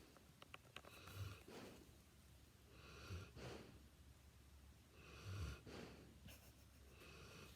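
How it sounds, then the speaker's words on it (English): Pet snoring in soft, faint, regular breaths, each rasping inhale recurring about every two seconds, close to the microphone with no talking. "we'll see if we can hear her snoring."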